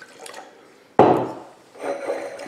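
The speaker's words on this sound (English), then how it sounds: "Let's give it a little rinse." A quick splash of water into a wine glass for a rinse, one sudden close splash followed by a softer swirl of liquid.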